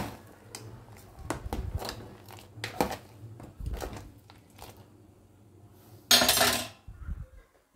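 A spoon scrapes and knocks against a metal pot of pumpkin sambar in irregular strokes, with a louder burst of clatter near the end.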